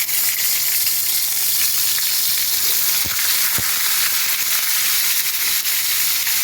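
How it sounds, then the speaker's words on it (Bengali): Pointed gourd (potol) pieces fry in hot oil, giving a loud, dense, unbroken sizzling hiss close up, with a couple of brief low knocks partway through and no speech. "তেলটা গরম হয়ে গেছে, এখন এই পটলগুলো ভেজে নেব।"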